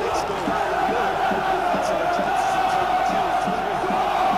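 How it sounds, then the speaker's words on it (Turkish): Stadium crowd at Avni Aker chanting in the PES 2016 video game during a Trabzonspor vs Fenerbahçe match, a steady dense roar with rhythmic chant pulses running continuously throughout. "müthiş bir tezahürat var Avni Aker'de"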